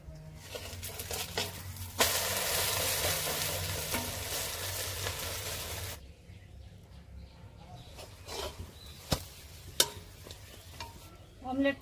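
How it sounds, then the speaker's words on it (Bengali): A chicken omelette fries in mustard oil in a pan, with a loud bright sizzle swelling for several seconds as it is flipped, then settling into a quieter crackle broken by sharp utensil taps and scrapes. "এবারে অমলেটটা উল্টে দেব।"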